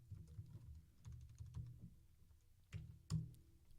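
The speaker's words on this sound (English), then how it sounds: "I'm just going to type out" Fingers tap on a computer keyboard while writing HTML and CSS code, producing soft, close clicking in short uneven bursts separated by brief pauses, with one sharper keystroke near the end.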